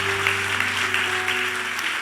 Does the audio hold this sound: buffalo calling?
no